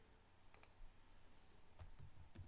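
A computer mouse gives a few quiet, sharp clicks spaced irregularly over a couple of seconds, close and faint in a near-silent room.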